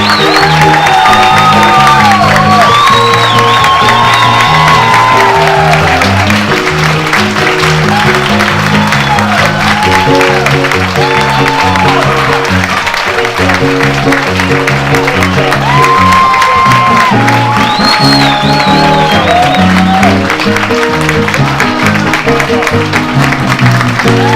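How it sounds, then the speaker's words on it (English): A theater audience claps and cheers for the cast of the Walt Disney Theater at a Disney Cruise Line cabaret. The applause is loud and continuous throughout, with whoops and shouts over it and steady music underneath. "put your hands together for the amazingly talented, beautiful, fantastic cast of the Walt Disney Theater"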